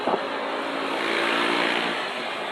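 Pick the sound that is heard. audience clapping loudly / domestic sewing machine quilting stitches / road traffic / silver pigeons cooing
road traffic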